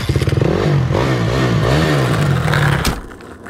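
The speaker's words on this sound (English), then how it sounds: "I'm about to learn how to wheelie this dirt bike." A dirt bike engine revs hard and close, a loud buzzing roar that climbs and wavers in pitch for about three seconds before dropping away, with no talk.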